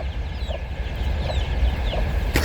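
Chickens in a Ukrainian farmyard give repeated soft clucks at a steady pace over a constant outdoor background, close by, with a sharp knock or rustle at the very end.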